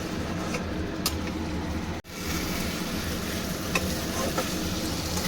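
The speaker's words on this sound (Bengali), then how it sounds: "ভালো করে আলুর সঙ্গে মশলাটাকে এবারে আবার একটু নেড়ে চেড়ে কষিয়ে নেব।" Potatoes and spice paste stir-fried in a pan for boal fish jhal, a steady close sizzle with a few scraping stirs and one brief dropout midway.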